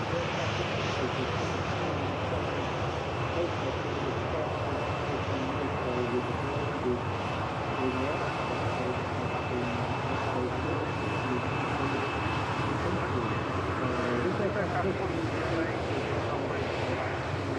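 A steady, continuous aircraft engine roar, broad and fairly loud, holds throughout as a Boeing 737 MAX lines up on runway 05L for departure at Manchester Airport, with a faint persistent whine above it and some wind noise.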